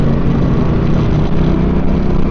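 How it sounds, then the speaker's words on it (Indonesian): A CF Moto 450MT motorcycle engine drones steadily and loud at close range, a rough, throaty mid-range rumble held without pause. "Suaranya bengis, suaranya kasar, tapi sebenarnya mesinnya halus."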